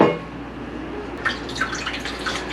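Water from a freshly cracked-open coconut drips and trickles close by in a brief run of small, irregular splashes over a low background hiss.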